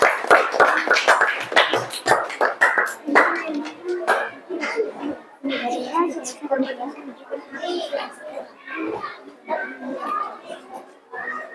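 Children and adults in an elementary school classroom applaud for a student group, with scattered claps mixed with children's chatter and talking voices throughout.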